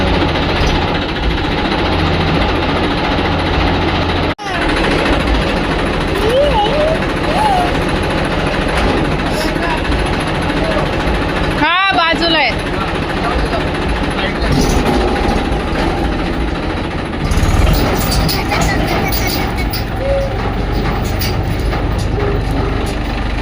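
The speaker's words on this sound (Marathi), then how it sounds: "आम्ही आता ट्रॅक्टर बाहेर काढतोय" A tractor engine runs loudly and steadily up close as it is driven out on a village property at night, a harsh continuous rumble throughout, with a person briefly speaking over it.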